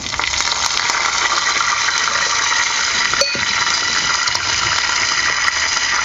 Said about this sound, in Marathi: आणि आता आपल्याला ह्यामध्ये घालायचं आहे पाणी